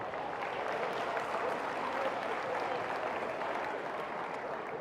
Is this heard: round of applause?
yes